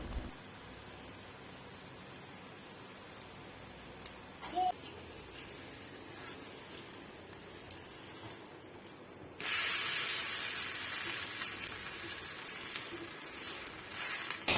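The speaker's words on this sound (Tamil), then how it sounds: "நான் நெய்யும் கடலெண்ணெயும் கலந்து வச்சுருக்கேன் ஈக்குவல் ப்ரொப்போர்ஷனில். அதை ஊற்றி தான் சுடுறேன்." Adai batter sizzles steadily in a mix of ghee and groundnut oil, a quiet background hiss that jumps into a loud, close spray of frying partway through and stays strong to the end.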